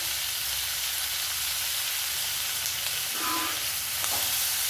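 Chopped tomato fries in a pan for peanut chutney, making a close, even sizzle and hiss with a few faint stirring touches throughout.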